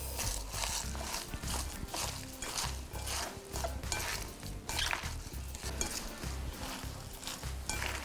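Cabbage kimchi ingredients are mixed together by hand, producing wet, squelching, rhythmic slaps and rustles up close, repeated steadily with no talking.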